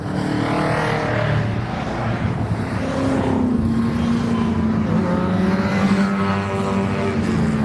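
Race cars in a 750 Motor Club race at Mallory Park roar past one after another, engines rising and falling in pitch as they sweep by, loud and continuous with no talking.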